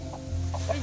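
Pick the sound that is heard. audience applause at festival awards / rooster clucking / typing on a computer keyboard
rooster clucking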